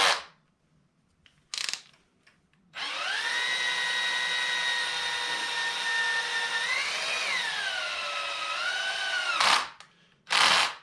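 A power drill whirs steadily for several seconds while drilling a handlebar on a 1996 Kawasaki KLR 650 motorcycle, its pitch dipping and recovering under load before stopping, with brief knocks before and after.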